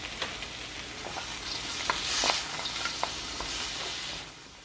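Frozen mixed vegetables, about half a cup, sizzle and hiss steadily in a hot pan for shrimp fried rice, with occasional stirring scrapes and pops up close before the sizzle eases at the end.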